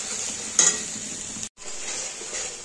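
Mustard paste frying on a low flame and being stirred, a soft steady hiss with one sharper scrape early on and a brief dropout in the middle.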